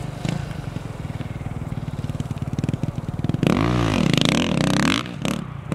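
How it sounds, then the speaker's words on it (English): A dirt bike on a clay track roars loud and close, its engine buzzing steadily, then revving hard with rising and falling pitch sweeps as it accelerates, with no talk over it. "Watching someone ride a dirt bike."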